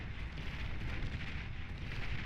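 Tanks and beamers blown apart in a Beyond All Reason real-time strategy battle, a dense continuous roar of explosions and rumbling fire, loud and unbroken, with no talking.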